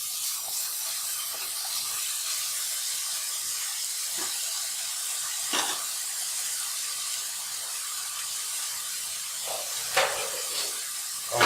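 Ginger and green chillies frying with tomato purée in a pan for ginger chicken curry, giving a steady close sizzle and hiss throughout, with a few brief louder spits near the middle and end.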